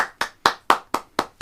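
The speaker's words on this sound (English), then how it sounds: "Clapping himself." A comedian claps for himself with seven crisp, evenly spaced hand claps in quick succession, close and clear.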